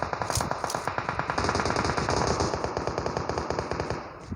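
Automatic gunfire in PUBG rattles in a long, rapid, even burst of close, loud shots lasting several seconds, with no talking over it.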